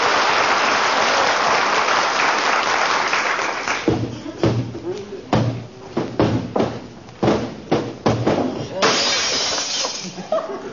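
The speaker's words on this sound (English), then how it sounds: "I was just cleaning the mirror in the hall, kiddo. Slipped out of my hand." A mirror slips from a hand and shatters as a radio sound effect, a long crash of breaking glass followed by a spill of falling shards and clattering debris. Loud and close, with a burst of audience applause mixed in.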